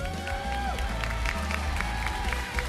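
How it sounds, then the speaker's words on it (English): A crowd at a Mobile Legends esports match applauds and cheers together, a dense wash of clapping with a few whoops mixed in. "First of all, guys, a round of applause."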